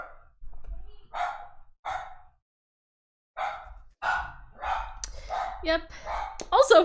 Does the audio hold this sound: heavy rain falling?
no